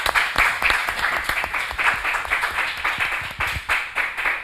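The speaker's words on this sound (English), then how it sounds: "we can just clap" Audience clapping in celebration at a virtual festival with live musicians, steady dense applause with rhythmic peaks throughout, no voices.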